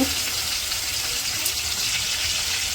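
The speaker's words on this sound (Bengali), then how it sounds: "পানি দিয়ে দিই একটু" Water poured into a cooking pan over ginger, garlic, sugar and cardamom frying in oil, a steady close gushing splash lasting the whole moment without pause.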